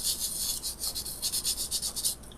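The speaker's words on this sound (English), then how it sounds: "we're going to burnish the glitter into this tumbler" A finger rubs glitter onto a tumbler in quick, rhythmic strokes, each producing a soft, papery swish, heard close and alone with no talk.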